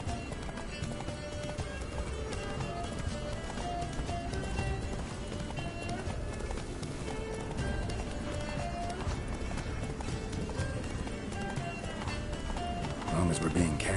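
A horse gallops in the Witcher 3 video game, rhythmic clip-clop hoofbeats running steadily under game music and spoken dialogue.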